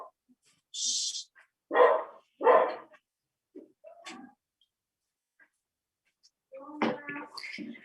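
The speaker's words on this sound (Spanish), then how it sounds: "Ay, mis perros." Several dogs bark in short separate outbursts, a few sharp yips and deeper barks spaced by quiet gaps, ending in a busier cluster of barking.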